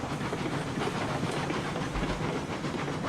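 Cook Mogul steam locomotive running in a railroad video game, a steady hissing chuff with rolling rail clatter, loud and continuous, no talk.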